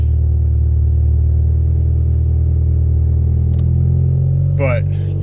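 A BMW engine runs loud and close with a deep, sustained rumble that drifts slightly in pitch, and a brief voice cuts in near the end.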